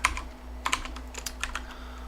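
Rapid keystrokes on a computer keyboard while code is typed out character by character, a close, steady run of clicks with a few louder taps and no talking.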